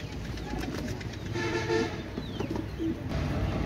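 Pakistani Rampuri pigeons, a pair of Saki group birds, coo softly amid a busy background of low rumble and faint bird calls, with a short bright tone near the middle.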